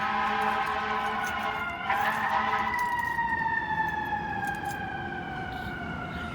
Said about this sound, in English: there's a fucking siren going on as I'm making this video